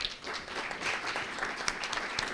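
Audience applause at a school board meeting, a steady wash of many hands clapping together, dense and continuous with no voices standing out.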